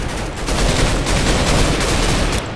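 Rapid, loud gunfire from the Mine Strike game in Minecraft fires as a dense sustained burst of shots that fills the whole stretch before easing at the end.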